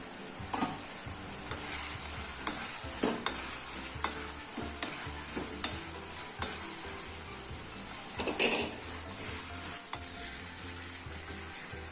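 Two medium-sized finely chopped tomatoes sizzle and soften in a pan over a medium flame, a quiet steady frying hiss broken by occasional clinks and scrapes of a stirring spoon against the pan.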